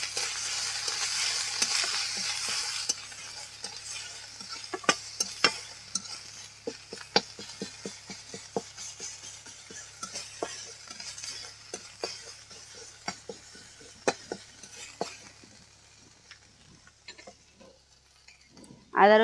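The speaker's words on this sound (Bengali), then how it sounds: "আদা রসুন ভালো করে ভেজে নিয়েছি" Ginger-garlic paste fries in a pan after browned onions, a steady soft sizzle under frequent sharp clinks and scrapes of a utensil against the pan, with a louder clatter right at the end.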